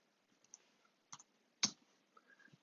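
A passcode tapped out on a computer keyboard: a handful of sparse, quiet key clicks at irregular intervals, with one sharper press near the middle and no voices.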